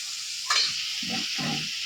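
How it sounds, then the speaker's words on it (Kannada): Chicken liver and tomato fry in a pan with a steady, close sizzle. A short clatter comes first, then two soft scraping stirs. "ಅದನ್ನು ಟೊಮೆಟೊ ಹಾಕ್ಕೊಂಡು ಮತ್ತೆ ಫ್ರೈ ಮಾಡ್ಕೊಳ್ಳೋಣ"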